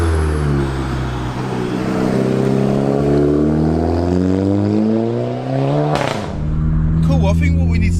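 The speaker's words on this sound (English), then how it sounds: "Gear changes sound wicked, don't they?" A VW Polo GTI (6C) engine revs loudly and climbs through rising pitch, with a sharp gear change near the end before pulling hard again; people talk over the engine noise inside the car.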